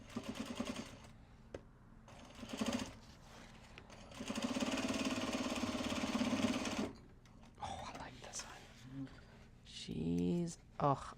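A sewing machine stitching Japanese fabric for a bag whirs in short runs and one longer steady stretch, with a voice talking in between.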